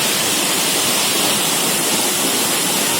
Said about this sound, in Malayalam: ഞെന്തുറുക്കി വെള്ളച്ചാട്ടം